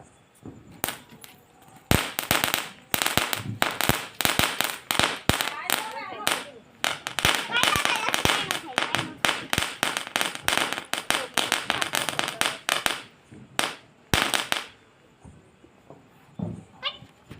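Diwali firecrackers bursting in rapid, irregular volleys of sharp cracks and pops, loud and close, with voices faintly heard between the bursts.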